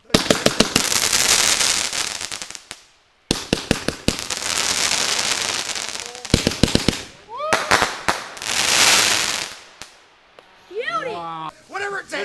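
Fireworks and firecrackers set off over a May long weekend, loud close cracking bursts in rapid clustered volleys with whistling rising shells near the end, while people exclaim and cheer between the blasts.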